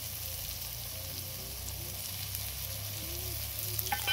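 Chicken frying in a pan with coriander, cumin and Kashmiri chilli powders, a faint, even sizzle with a low hum underneath and a slight rise in noise at the very end; nobody talks.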